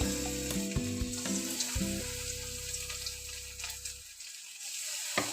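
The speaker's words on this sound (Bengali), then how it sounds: "তেলটা গরম হয়ে গেলে আমরা ওই ফুলকপিগুলো ভেজে নেব।" Cauliflower florets frying in hot oil in a wok, a steady close sizzle with soft music-like tonal layers underneath for the first four seconds, then the crackle continuing alone and quieter.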